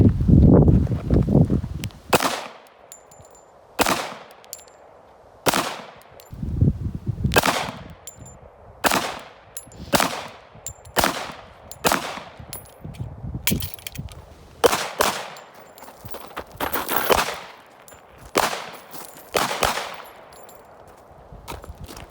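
Repeated pistol shots from an HK45 .45 ACP handgun at a shooting range, a dozen or more sharp, loud reports fired in a steady cadence with short gaps, each ringing out briefly.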